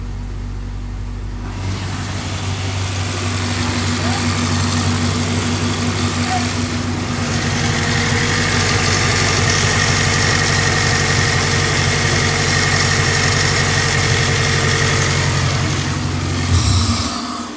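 A car engine idles steadily and fairly loud after a timing chain cover gasket replacement, a smooth even hum with no misfire, starting up about a second and a half in and running alone to the end.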